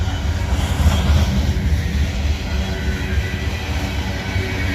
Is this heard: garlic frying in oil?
no